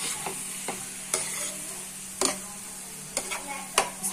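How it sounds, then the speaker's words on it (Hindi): Eggplant cooking in a pan is stirred and mashed with a utensil, producing sharp, irregular clacks against the pan every second or so over a low, steady sizzle, close up and without talk. "इसमें डालेंगे अभी बैंगन, करी हूँ मैं। इसमें भी थोड़ा होगा मैश, थोड़ा पकेगा इसमें भी। और उसको अच्छे से मिक्स करके"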